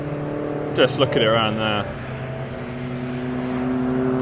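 A boxy Fiat Panda 100HP race car, the RacePanda, circles a racetrack on a moody, foggy day, its steady engine drone carrying through the whole stretch while someone talks briefly over it.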